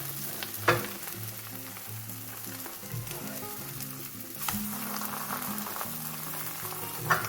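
Food sizzles and crackles steadily in a hot pan, with occasional sharp clatters of a spatula flipping pieces and low musical tones underneath.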